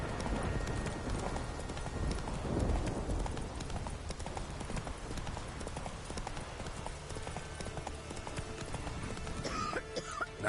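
Roach, the horse in The Witcher 3, clip-clops along with a steady, rhythmic run of hoofbeats, close and continuous, with a faint snort and game ambience behind.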